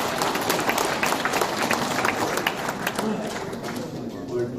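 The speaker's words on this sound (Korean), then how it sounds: "우리 감사의 박수를 한번 보내드립시다." Audience applause at a New Year business reception in Gumi, a dense steady clatter of many hands filling the room, with some murmuring voices mixed in.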